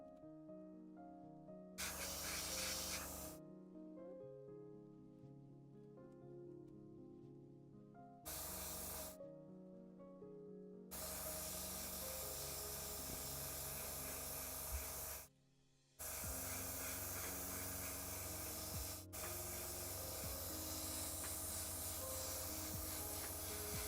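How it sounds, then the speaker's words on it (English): Bursts of airbrush hissing while spraying paint onto Warhammer Skaven miniatures, steady close sprays that stop and restart several times between short gaps of quiet. "try to get as much of the airbrush sound out of it as possible"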